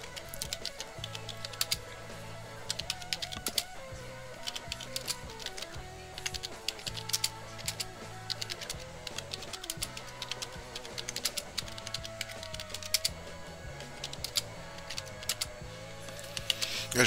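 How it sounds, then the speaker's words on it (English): Steady typing on a computer keyboard, rapid irregular key clicks at close range running continuously, with a faint tonal background underneath and no talking. "just look at what I'm typing here."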